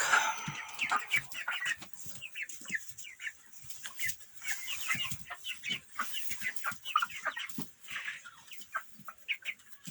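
Broiler chickens about 36 days old cluck and chatter continuously inside a coop, with many overlapping short calls close to the listener and no talking.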